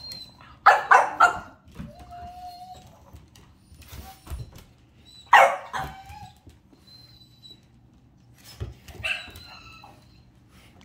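Dogs barking in short bursts, a few sharp barks and yips spaced apart, fairly close, with a quiet background between them.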